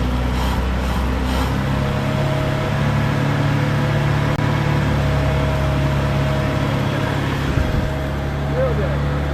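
A rare International Scout 800 four-cylinder engine running off the tank, a steady rumbling idle with a droning hum, close and loud, while people speak briefly nearby.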